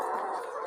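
Chickens on an egg-laying poultry farm cluck steadily in a brief close burst, a dense flock chatter with no voices over it.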